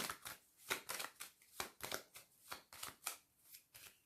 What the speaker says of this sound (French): Allez, on y va, je vais recouvrir certaines cartes.